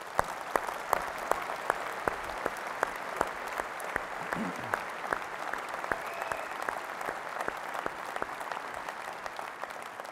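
Applause from a large political rally crowd at Budapest Sportaréna, steady dense clapping throughout with a faint voice briefly heard partway through.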